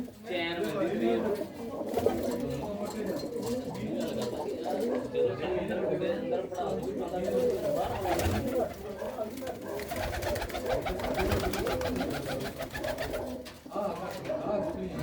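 Pigeons in a loft kept in the middle of Hoshiarpur city, Punjab, a flock of mostly males, coo in soft low repeated phrases throughout, with someone talking over them.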